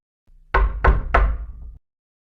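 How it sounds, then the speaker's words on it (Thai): Three firm knocks on a wooden cabin door, evenly spaced and close, sharp and solid with short decay, heard alone after a faint thump. "เขายกมือเคาะ"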